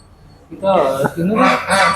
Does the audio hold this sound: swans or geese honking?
yes